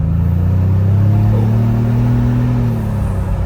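A Ford Bronco 2.3L fitted with an SPE Motorsport axle-back exhaust drones loud and close, a steady deep rumble that climbs slightly in pitch and then eases off.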